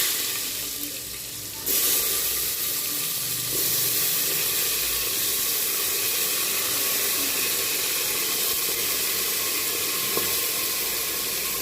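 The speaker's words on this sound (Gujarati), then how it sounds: "મમ્મી શાક વઘારે." Vegetables dropped into hot oil for tempering in a home kitchen, a steady bright sizzle and hiss that jumps up sharply early on and then keeps crackling evenly at close range with no talk.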